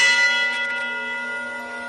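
A large cathedral bell rings once, its bright strike fading into a long, sustained hum with steady ringing overtones, loud and close with no other sound.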